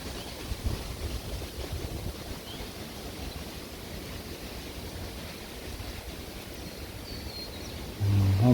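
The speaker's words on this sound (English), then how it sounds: "There's a lot of wind coming through." Strong gusts of wind roar continuously across open bushland, a loud broadband rush that swells near the end, with no voices.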